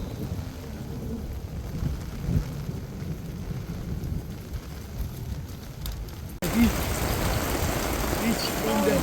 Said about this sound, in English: just as it was clearing, there was a thunderstorm